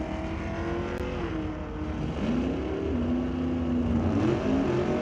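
Drag racing cars, including a Lordco Auto Parts Malibu, roar loudly and steadily with engine pitch climbing and shifting as they launch down the strip, no talk heard.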